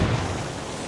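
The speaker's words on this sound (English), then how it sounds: "Watch out! Grenade!" A grenade blast in the shooter game Ghost Recon Wildlands lands as a loud, broad, rumbling burst that fills the whole short moment with no voices.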